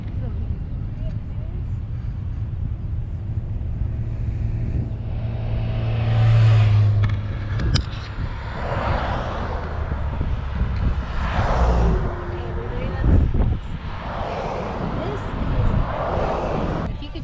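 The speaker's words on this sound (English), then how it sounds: "There's all the traffic behind us." Road traffic passing behind a camper near Granby, Colorado, as a series of vehicle whooshes rising and fading over a low engine rumble, with people talking over it.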